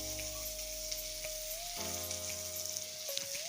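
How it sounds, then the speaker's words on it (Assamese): Onions sizzle steadily as they fry in hot oil in a home kitchen pan, a continuous crackling hiss with a low hum underneath and no voices. "পিঁয়াজখিনি দি দিলোঁ।"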